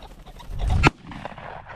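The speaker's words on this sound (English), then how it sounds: "Nice shot, Bo." A single loud shotgun blast goes off during an upland bird hunt with a pointing dog in the field, a sharp close report after a brief rustle, followed by a fading tail.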